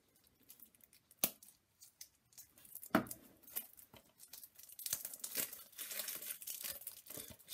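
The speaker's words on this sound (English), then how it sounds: "So I'm just going to grab my knife and then I'll cut this open and we can have a look inside." A knife slitting and peeling the plastic cellophane wrap off a new game box, with sharp cuts followed by crinkling, tearing and rustling that grows denser and more continuous toward the end, close and fairly quiet, without any speech.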